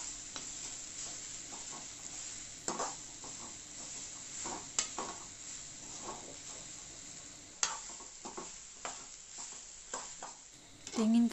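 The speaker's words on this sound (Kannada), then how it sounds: "ತೆಂಗಿನಕಾಯಿಯನ್ನು ಕೂಡ ಸ್ವಲ್ಪ ಫ್ರೈ ಮಾಡಿಕೊಳ್ಳುವ" Grated coconut with turmeric fries in a pan, giving a steady soft sizzle broken by scraping stir strokes and occasional utensil clinks, close and moderately quiet.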